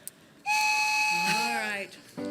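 A loud, sustained whistle blast, steady then bending lower, ringing for over a second in a concert setting before a hillbilly singalong; it may be a voice or instrument imitating a train whistle rather than a real train.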